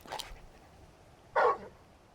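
Torgal the dog in Final Fantasy 16 gives a short soft yip, then a brighter louder bark a second later, two brief calls over a quiet game background.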